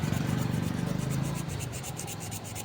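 Thick sandpaper rubbed back and forth over an electric fan part to remove grooves, a steady rhythmic rasping scrape close up with no talking.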